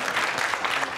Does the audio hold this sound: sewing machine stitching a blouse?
no